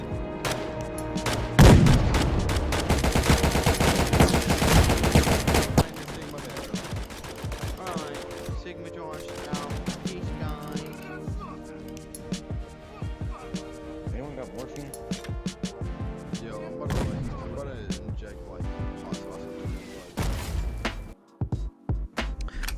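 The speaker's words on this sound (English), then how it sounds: "So I'm going to fire off all my rounds." Rapid bursts of weapon fire in the video game PMC, rounds emptied in a loud dense volley over the first few seconds, then further scattered shots and clatter continuing under a steady background.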